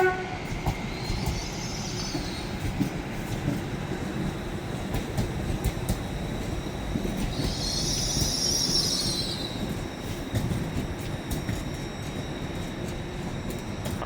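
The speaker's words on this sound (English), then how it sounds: "That horn was from that train." An LNER Azuma train crawls slowly through Manors station in Newcastle, giving two long horn blasts over a steady low rumble of rail noise, with no one talking.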